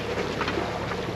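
A sailboat's engine runs at about 1100 rpm under motor in light wind, a steady low drone mixed with wind and water noise, close and continuous for a brief moment, without talk.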